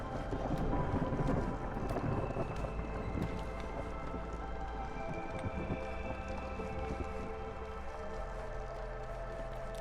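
Stormy weather in the Against the Storm video game: a dense, continuous wash of rain with low rumbling thunder swelling near the start, steady and loud throughout, with no talk over it.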